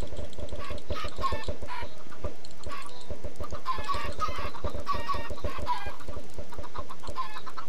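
Dense, loud clucking from many Minecraft chickens crowded together, a rapid, continuous chatter of overlapping clucks close up and with no voices.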